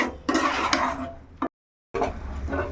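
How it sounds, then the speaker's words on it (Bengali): A spatula scrapes and stirs a ginger, garlic and tomato spice paste frying in oil in a pan for an egg curry. The scraping is close and fairly loud and stops briefly partway through. "এই মশলাটাকে ভালো করে কষাতে হবে যতক্ষণ পর্যন্ত না এই মশলা থেকে তেল ছেড়ে যায়"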